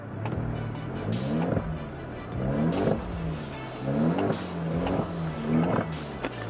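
An Alfa Romeo with muffler and resonator deleted revs repeatedly in close, loud bursts, each rising then dropping back, with pops between the pulls.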